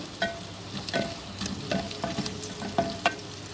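Potatoes frying in a pan, a steady close sizzle with repeated stirring scrapes and spatula taps against the metal at an uneven pace, with no speech.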